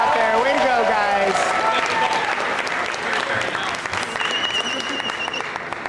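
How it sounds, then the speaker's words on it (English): Crowd applause for climbers at an outdoor climbing competition, broad sustained clapping with a voice speaking over the start and a few cheers mixed in, continuing at an even level throughout. "Give them a round of applause"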